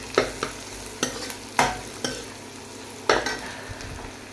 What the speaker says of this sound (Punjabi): ਵੇਖ ਸਕਦੇ ਆਪਣਾ ਪਿਆਜ਼ ਜਿਹੜਾ ਉਹ ਵੀ ਭੁੱਜ ਚੁੱਕਾ ਵਾ